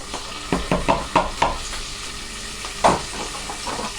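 Potatoes, green beans and tomatoes sizzle in a hot pan, with a steady frying hiss broken by several sharp bursts as each batch of vegetables drops in, the loudest near the end.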